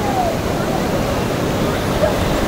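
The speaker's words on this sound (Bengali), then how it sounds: "এত সুন্দর বড় বড় ঢেউ" Big ocean waves at Puri sea beach make a broad, steady roar of surf that is loud and continuous, with no distinct breaks. Faint voices and calls sit beneath it.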